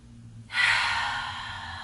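A single long, breathy exhale during a yoga flow begins abruptly after a brief quiet moment, then slowly fades, heard close with no speech.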